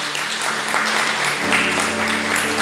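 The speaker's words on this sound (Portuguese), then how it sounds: "Aplauda o Senhor nessa noite." A church congregation applauds during an evening family service, a dense steady wash of clapping filling the whole stretch, with a low sustained tone running beneath it.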